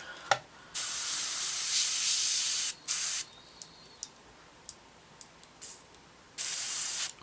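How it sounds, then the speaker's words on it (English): An airbrush hisses in steady bursts, several seconds of continuous spray broken by short pauses and a few quick puffs, close and fairly loud. "Please start spraying through."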